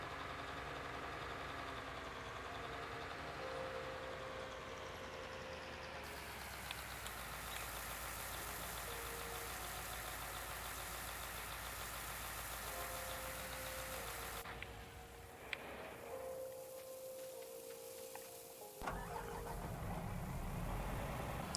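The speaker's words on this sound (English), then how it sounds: "it's near impossible to drive straight with this tractor because of the two-track design" A two-track tractor's engine drones steadily while driving in Farming Simulator 19, a continuous mid-pitched rumble with slight shifts in tone and no voices.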